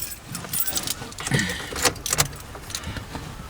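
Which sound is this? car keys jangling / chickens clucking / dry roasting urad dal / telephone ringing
car keys jangling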